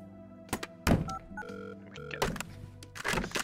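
Telephone dialing inside the virtual reality game Surgeon Simulator: clicky button presses and short tonal beeps with thunky handling knocks, loud and close, with no talking.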